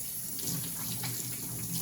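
Water pours steadily into a Bella pressure cooker holding oxtail, making a continuous, moderately quiet running-water rush with no talk.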